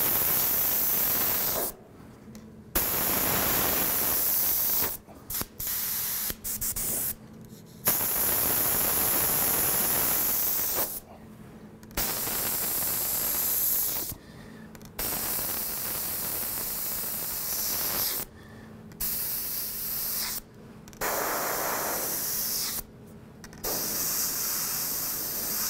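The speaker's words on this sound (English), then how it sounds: "aim at your stencil more than the piece. The more your paint is going on the stencil than anywhere else." An airbrush sprays paint onto a stencil in repeated hissing bursts of a few seconds each, separated by short silent pauses, close and steady.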